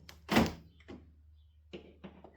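Car door of a Honda HR-V being locked by its handle, giving one solid thunk followed by a few softer clicks and knocks, close and fairly quiet.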